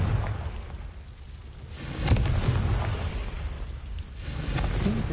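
The Confringo blasting spell goes off in the Hogwarts Legacy video game as two rumbling bursts, one after two seconds and another after four, over a low background hum with no voices.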